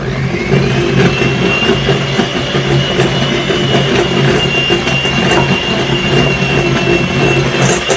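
A hand-held electric mixer runs steadily on low speed, creaming butter with white sugar in a bowl for holiday cookie dough, a constant close motor whir with a faint high whine throughout, no talking.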